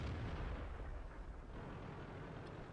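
Tank cannon fire in the World of Tanks video game, with a T-29, heard as muffled, low booming rumble that fades from a heavy start into a softer distant tail.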